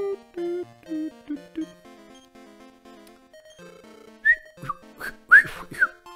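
Person whistling a short tune in a playful, wavering way, a few rising and falling notes heard over light game music in the Dragon Quest III role-playing game.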